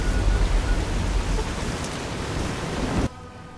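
Steady heavy rain falls in Fallout: New Vegas as a dense, loud hiss with low rumbling beneath, then cuts abruptly to near silence at the end.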